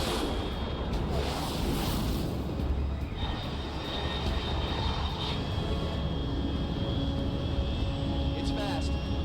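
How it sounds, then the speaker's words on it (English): A fixed-wing aircraft in Metal Gear Solid Δ: Snake Eater passes overhead at high altitude, producing a steady, broad engine roar that stays constant for several seconds. "Unidentified aircraft detected."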